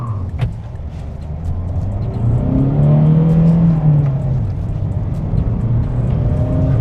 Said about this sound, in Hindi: raving till 5000 RPM,